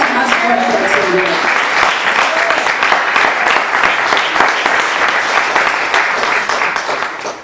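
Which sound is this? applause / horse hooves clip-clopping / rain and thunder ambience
applause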